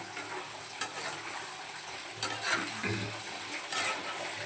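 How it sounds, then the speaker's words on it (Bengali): Prawn masala sautéing in a pan, a steady close sizzle with occasional sharp clicks and scrapes of stirring scattered through. "দেওয়া মশলা দেওয়া আমার কমপ্লিট হয়ে গেল এবার আমি কষব"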